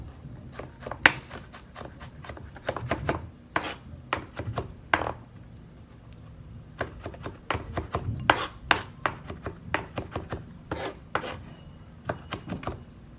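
Knife blade chopping and crushing peeled garlic cloves finely on a board, a long run of sharp, close, irregular taps and thuds with brief pauses, no talking.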